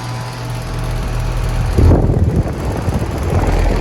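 A 2014 GMC 5-ton 13 SEER air conditioner unit runs in a parking garage with a steady mechanical hum, then a rougher, louder rattling churn sets in midway and continues close to the microphone.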